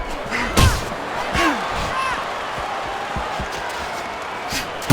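Fight Night Champion boxing bout between Mike Tyson and George Foreman: punches land as heavy thuds and slaps over a crowd murmur while a commentator talks.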